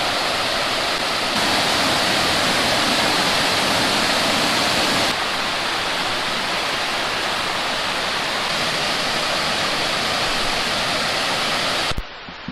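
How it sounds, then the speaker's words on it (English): Steady rushing water pours continuously as short waterfalls splash over layered rocks along Sweet Creek, loud and close with no voices. "Some little short waterfalls that go over some layered rocks here."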